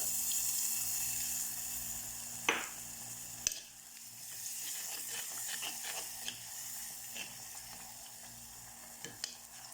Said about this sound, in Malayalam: ബാക്കിയുള്ള പുളിവെള്ളം കൂടെ ഒഴിക്കുക